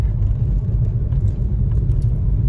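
Road traffic on a cloudy day after rain, a continuous low rumble of passing cars close by, steady and fairly loud, with no talk.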